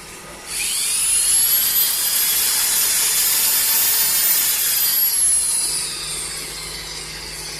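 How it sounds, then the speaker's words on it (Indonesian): A high-pitched power drill whines steadily at close range for several seconds, its pitch rising slightly then settling, with no talking. "kemudian dengan menggunakan bor"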